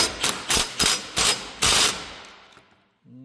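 Impact wrench tightening a bolt on a combine corn head: five rapid hammering bursts in quick succession, loud and close, the last longer before the tool stops and a faint tail remains.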